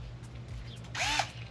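Power drill spinning a suction cup valve-lapping tool on a Honda Integra B20B with a B16 cylinder head, one brief whirring burst of about a quarter second that rises and stops, close and moderately loud over quiet background hum.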